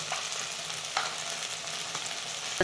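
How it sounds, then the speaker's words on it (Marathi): Garam masala and a roasted onion-coconut paste sauté in oil for a village-style drumstick curry, with a dense continuous frying hiss and a few soft scraping strokes as the mixture is turned. "गरम मसाला चांगलं परतून घ्यायचं मसाला परतून घ्यायचा"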